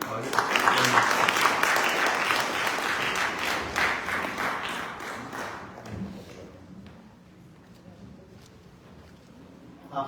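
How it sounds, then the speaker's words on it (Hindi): Dense audience applause at a Hindi magazine launch ceremony in New York fills the first half, then fades to scattered claps and quiet room tone. "इसके लिए भी आपका डबल तालियों के साथ स्वागत"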